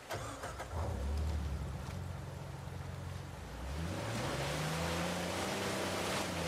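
A car engine drones loudly through a driving sequence in the video game Uncharted 4, its pitch climbing in a steady rev midway through over a wash of rushing, surf-like noise, with no voices.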